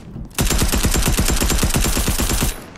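Rapid automatic gunfire in a video game, a loud sustained burst of evenly spaced shots lasting about two seconds, with a brief quieter lead-in and no talking over it.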